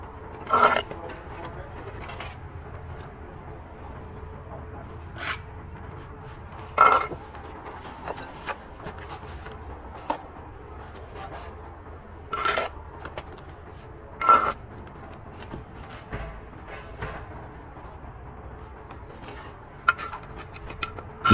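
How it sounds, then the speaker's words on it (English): Steel joint roller working masonry mortar joints on a bricklaying job, a soft recurring rasp and scrape with sharper knocks every couple of seconds over low site background. "We use our joint rollers to roll the masonry."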